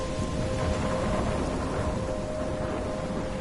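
A storm in the video game Life Is Strange pours heavy, steady rain with a low thunder rumble beneath, dense and continuous, a faint tonal hum running through it, no voices.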